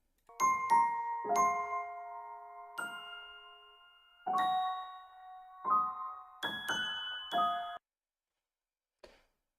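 Bell-like melodic video game music from The Legend of Zelda: Breath of the Wild, with struck chime notes in clustered phrases and short pauses, playing clearly on its own before it cuts off abruptly.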